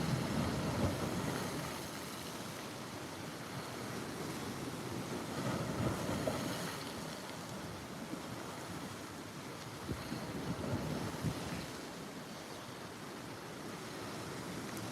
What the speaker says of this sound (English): The waves are very strong.